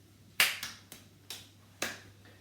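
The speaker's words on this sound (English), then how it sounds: "Try and do the Gordon Ramsay clap" Hands clapping in a kitchen in a showy chef's style: five sharp, bright claps spread over two seconds, irregularly spaced, close and crisp with a short ring after each.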